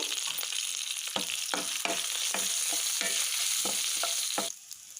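Curry leaves sizzle loudly in hot oil, crackling steadily with sharp pops and stirring scrapes, before the hiss suddenly drops near the end.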